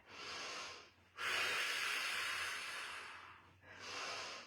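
Deep breathing during an exercise workout, a long hissing exhale bracketed by two shorter breaths, close and audible with no talk over it.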